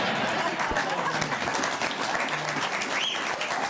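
Studio audience at a live comedy talk show clapping after a joke, a dense, sustained patter close by with a murmur of crowd chatter mixed through it.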